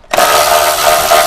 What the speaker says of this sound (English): So first we're going to take a Torx T30. Pull out these 4 screws.